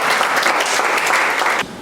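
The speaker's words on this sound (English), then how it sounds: "So give a big round of applause to him" An audience at an MBA department guest lecture applauds a student speaker with dense, steady clapping that carries loud throughout and cuts off abruptly near the end.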